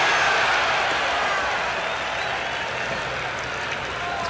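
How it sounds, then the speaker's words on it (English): Dense crowd roar fills a baseball stadium during a Seattle Mariners at Boston Red Sox game, a steady broad wash of cheering and scattered clapping that holds loud throughout and eases only slightly toward the end. "This crowd getting fired up."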